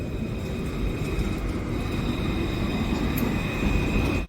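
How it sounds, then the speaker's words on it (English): Melbourne tram rolling past as a continuous low rumble with faint high whine, steady and fairly loud throughout, with no talk over it. "A lot of trams here in Melbourne,"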